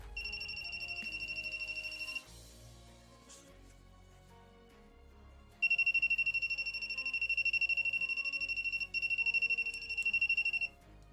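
A voltage tester beeps with a high electronic tone near a plasma generator experiment, ringing for about two seconds, falling silent, then ringing again for about five seconds.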